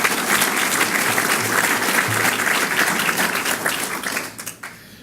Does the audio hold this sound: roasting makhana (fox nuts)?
no